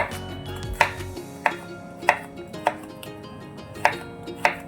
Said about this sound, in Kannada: ಈ ಥರ ನಾನು ಕಟ್ ಮಾಡ್ಕೋತಾ ಇದ್ದೀನಿ